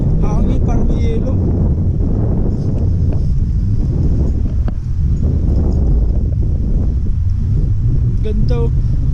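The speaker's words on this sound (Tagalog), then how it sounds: "Malamig ang pan, hangin parang may yelo." Cold wind blowing at a hilltop view deck, a constant loud roaring rumble against the microphone throughout, with people talking faintly beneath it.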